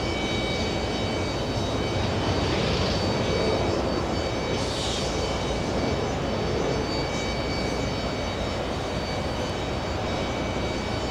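An Emirates airliner's jet engines at JFK airport give a steady, fairly loud roar and whine at a distance, continuous throughout.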